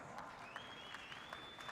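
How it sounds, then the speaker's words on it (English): Audience applause at the Bitcoin 2022 Conference, faint and distant, a thin spread of clapping from a large hall with a few sharper individual claps standing out. "Let's get a round of applause."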